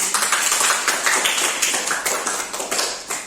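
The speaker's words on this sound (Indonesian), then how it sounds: "tepuk tangan dulu untuk teman-teman" A class claps hands steadily and densely, a continuous patter of many hands applauding with no voices.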